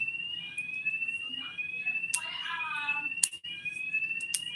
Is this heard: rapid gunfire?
no